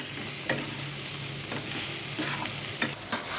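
Potato and vegetable curry with green chillies sautéing in oil, a steady close sizzle broken by several soft scraping stirs of a spatula.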